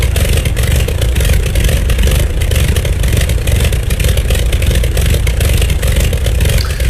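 A steady, loud engine drone runs throughout with a rough, buzzing texture and no letup, a radial piston engine of an Avia BH-5 aircraft in a video game running continuously.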